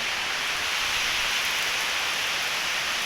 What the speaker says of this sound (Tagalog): Malakas talaga yung ulan niya.